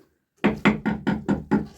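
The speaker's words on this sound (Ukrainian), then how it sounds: "я от так постукаю, то по стіні" Six firm knocks on a wall in a rural cow barn, evenly spaced and close, ringing out sharply after a brief silence.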